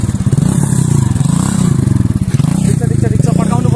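A motorcycle being ridden close by, its engine throbbing loudly and continuously with an uneven, pulsing rumble.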